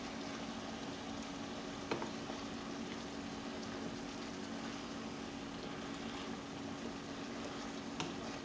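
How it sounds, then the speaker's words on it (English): Ground hamburger meat browning in a pan for chili, a steady soft sizzle and bubbling with faint scraping, quiet and continuous with no voices. "While you're browning your hamburger meat, you want to break it into as many small pieces as you possibly can"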